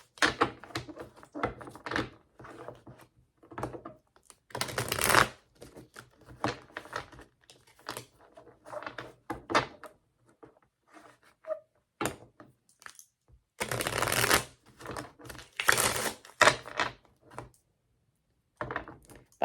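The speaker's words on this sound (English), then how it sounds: "All right, let's shuffle for Gemini." Repeated bursts of tarot cards being riffled and shuffled close by, crisp papery flutters separated by short quiet pauses.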